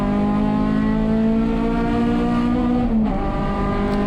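A USTCC touring race car roars at Sonoma Raceway, heard from inside the cockpit. The engine drones loud and sustained, holding near one pitch, and briefly dips around a shift before climbing again.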